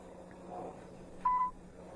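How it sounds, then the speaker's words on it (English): A single short electronic voicemail beep sounds after a recorded greeting, brief and moderately loud over a quiet phone line background. "Please leave your message"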